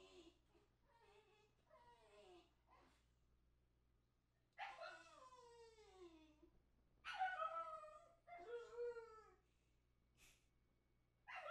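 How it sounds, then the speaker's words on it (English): A puppy whines and yips in a quiet room, thin rising and falling cries in short separate bursts with pauses, the longest and loudest calls coming near the end. "I don't care about your puppy whines."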